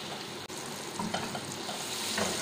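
Chili paste fries in oil over a low flame for a Kerala fish pickle with kudampuli. A dense sizzle runs throughout, broken by a short dropout and a few stirring scrapes, with no speech.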